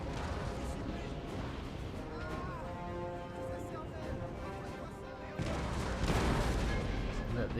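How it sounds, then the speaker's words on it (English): Cannon artillery booms in a Napoleon Total War battle, with loud, dense blasts that swell near the end over constant battlefield rumble, under a voice. "the cannons do their thing"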